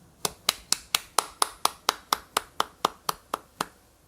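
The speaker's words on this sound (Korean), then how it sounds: "우리 주인 되신 우리 하나님께 영광의 박수 올리겠습니다." A church congregation at a Sunday worship service claps in unison, about fourteen sharp, evenly spaced claps on a steady beat with no talking over them.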